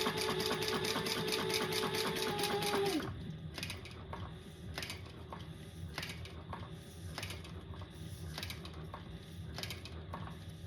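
A home sewing machine stitches in a steady, fast mechanical whir for about three seconds, then stops, leaving soft clicks and handling noises of thread and bobbin adjustments.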